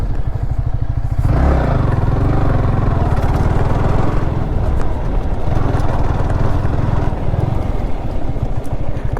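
Yamaha R15 V3 motorcycle engine on a ride, a loud, steady droning rumble close up that rises in pitch midway, mixed with wind and road clatter.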